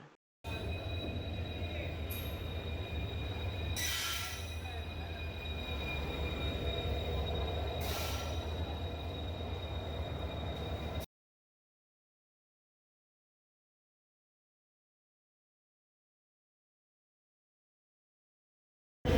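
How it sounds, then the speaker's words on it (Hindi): Train rumble at a railway station platform: a steady low roar with rolling wheel noise and occasional louder screeching swells for about eleven seconds, then abrupt silence. "यहाँ थोड़ा ज़्यादा सी नॉइज़ हो रही थी बाहर ट्रेन की"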